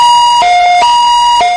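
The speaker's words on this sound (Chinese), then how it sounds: "救护车鸣笛赶往医院" An ambulance siren sounds up close and loud, alternating between two pitches in a quick hi-lo pattern over a short burst.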